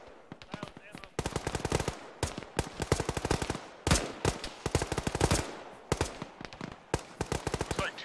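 Sustained gunfire in the ShackTac military game, with repeated rapid machine-gun bursts and single sharp cracks in a busy, loud firefight, one especially heavy report standing out midway, with voices talking over it.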